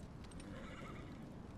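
A horse neighs in the fantasy video game Dragon Age: Inquisition, a short whinny over a steady bed of game ambience, with no talking.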